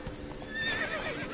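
Roach the horse in the Witcher 3 video game gives a clear whinny over a rumble of galloping hooves, all compressed into one short burst.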